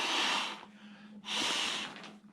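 Breaths blowing air into the valve of a backpacking sleeping pad, two long, forceful, close exhalations separated by a short pause, with no talk.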